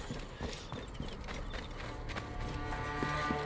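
Horse hooves clip-clop in a steady running rhythm as a rider travels in Assassin's Creed Origins, the footfalls fairly quiet over light background game ambience.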